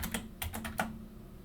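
Short burst of computer keyboard typing, about five or six crisp keystrokes in quick succession near the mic, with a faint steady hum underneath.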